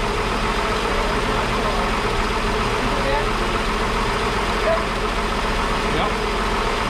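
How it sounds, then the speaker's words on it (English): Engine of a 1961 Ford Falcon Delivery running at a steady idle, a constant low rumble close by with no breaks. "That motor definitely sounds better, guys."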